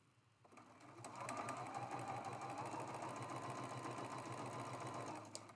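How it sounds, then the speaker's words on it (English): A sewing machine chain pieces a quilt block with a quarter-inch seam, running up to speed and holding a steady, close, fast stitching hum for several seconds before slowing. "we're sewing that with a 1/4 inch seam allowance as well"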